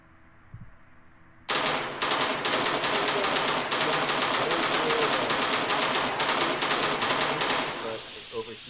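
A weapon in the Angels Fall First shooter game fires a long rapid burst of automatic shots after a short quiet lead-in, loud and sustained, ending abruptly with a fading tail.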